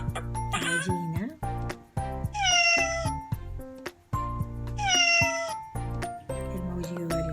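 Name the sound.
cat meowing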